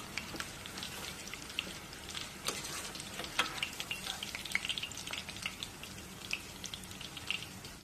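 Chicken nuggets fry in an AMC cookware pan with a steady close sizzle and crackle, scattered pops and spits running through the whole stretch, with no voices.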